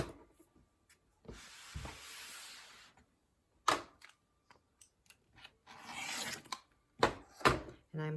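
A fabric log cabin quilt block is trimmed on all four sides into an 8.5-inch square. Short, close scraping cuts and handling noises come in separate bursts with quiet gaps between them.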